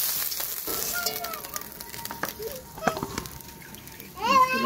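Fish frying in oil in a wok, a steady sizzling hiss with occasional scrapes, while voices, including a child's, talk and call out nearby.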